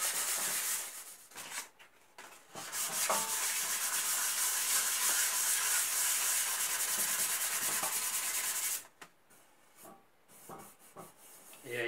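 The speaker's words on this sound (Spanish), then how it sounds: "Ahora lo que voy a hacer es lijar esta otra parte" Coarse sandpaper rubbed by hand over a workpiece for an outdoor lamp, a close, steady hissing scrape lasting several seconds before stopping, then a few short rubbing strokes.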